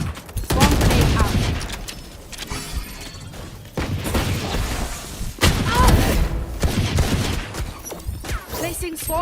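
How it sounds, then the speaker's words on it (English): A swarm grenade detonates in a shooter game, a loud chaotic cluster of crackling blasts and gunfire rolling in several dense waves amid busy combat noise. "Placing swarm grenade. Swarm grenade out."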